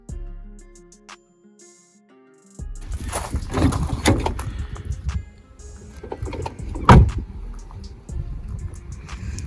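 Renault Scenic 3 car door swung shut after a quiet stretch, a muffled thud followed by rustling and handling noises, with a second dull knock later; close and moderately loud, no talking.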